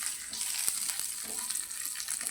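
Raisins and nuts frying in a pan for semolina (rava) ladoo give a steady, close crackling sizzle with a few light stirring taps, no voices.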